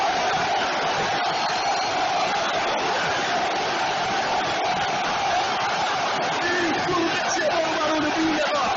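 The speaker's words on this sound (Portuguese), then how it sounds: "Vamos escutar o barulho da torcida do Ceará." Ceará football supporters fill the Castelão stadium with a dense, continuous roar of crowd noise and chanting after a hard-won goal, steady and loud throughout with no break.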